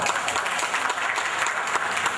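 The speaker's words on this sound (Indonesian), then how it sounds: "Tepuk tangan dong." Steady, fairly close applause from a conference audience in a meeting hall, dense clapping with a few louder individual claps popping out.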